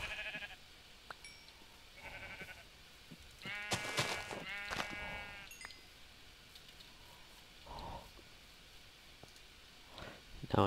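Sheep bleat in modded Minecraft, several distinct wavering calls close by, with clicks and quiet game background between them.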